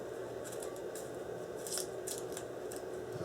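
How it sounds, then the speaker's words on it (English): Kitchen scissors trimming the leaves of a fresh artichoke up close, a series of crisp snips at uneven intervals, some louder than others, over a low room hum with no talking. "I'm going to trim a little bit some of those leaves here."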